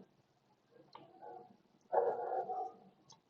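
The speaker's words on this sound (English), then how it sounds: "Sorry for the dog at the backdrop." A dog barks and whimpers faintly in the background, with a brief louder burst in the middle, and no one talks.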